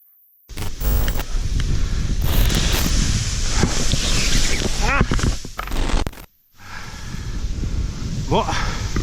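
Strong wind buffets the microphone on a sand dune during paragliding, in loud gusty bursts with brief drops, while people talk over it.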